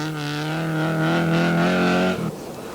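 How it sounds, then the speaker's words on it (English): A 190-horsepower Audi 80 Quattro rally car on a special stage at the 1983 Sweden Rally. Its engine holds a loud, steady high-revving note that cuts off abruptly near the end. "last year's winner Stig Blomqvist is still experimenting with his new Audi 80 Quattro with its 190 horsepower"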